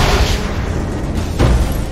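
A big explosion in the LEGO Marvel Super Heroes video game, set in a laboratory break-in: a deep, loud boom opens the clip, then a second heavy blast swells near the end over a dense rumbling background.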